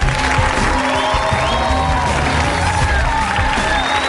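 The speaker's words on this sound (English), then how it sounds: "Give them a big round of applause." A television studio audience applauds and cheers for returning contestants on a reality competition, a continuous crowd roar of clapping with whoops, loud and sustained, with scattered voices mixed in.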